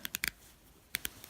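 The rotating bezel of a Glycine Airman watch clicks in a few crisp, close ratchet steps, a quick cluster of three or four, a pause, then a couple more faint clicks.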